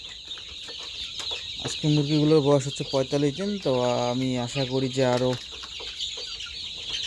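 Sonali chickens, about 45 days old, clucking on a farm in a few short bursts and longer drawn-out calls near the middle, over a steady high insect-like hum, with someone speaking briefly.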